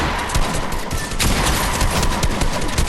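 Rapid bursts of gunfire crackle nearly continuously in a late-game Fortnite match, dense and loud with overlapping shots throughout.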